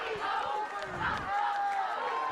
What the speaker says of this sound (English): The Lone Peak girls team cheering on their classmates.